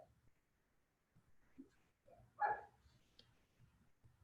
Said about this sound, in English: Sorry, neighbor's dogs are right outside the window.